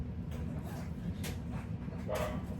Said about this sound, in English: Apologies for the barking dog.